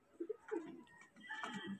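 Pigeons in a loft giving soft, low cooing calls, a few short close coos in quick succession followed by a longer murmuring phrase, fairly quiet with no talk.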